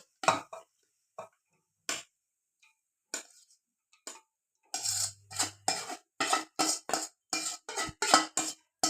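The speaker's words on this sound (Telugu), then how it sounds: "ఇప్పుడు మొత్తం దీంట్లో వేసేసి కలుపుతానండి." Coconut rice mixture being stirred in a pot, with a run of sharp, closely spaced scraping and clinking strokes of a spoon against the vessel, sparse at first and then quickening into a steady rhythm.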